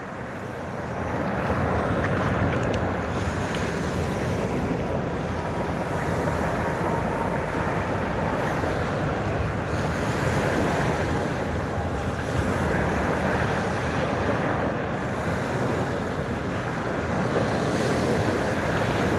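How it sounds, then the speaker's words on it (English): Ocean waves and wind at sea, heard from a fishing kayak: a continuous broad roar of surf and gusting wind buffeting the microphone, steady and fairly loud throughout with no talking. "Sounds of the sea"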